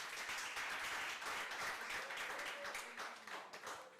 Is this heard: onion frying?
no